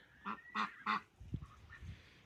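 Ducks on a farm give three loud, honking quacks in quick succession, followed by softer rustling and low shuffling sounds.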